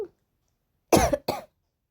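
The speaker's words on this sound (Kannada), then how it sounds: "ಸ್ವಲ್ಪ ಮಾತಾಡಿದ್ರೆ ಸಾಕು ಹಂಗೆ ಕೆಮ್ಮು ಸ್ಟಾರ್ಟ್ ಆಗಿಬಿಡತ್ತೆ" Two short, sharp coughs in quick succession from one unwell person nearby, after a moment of near silence.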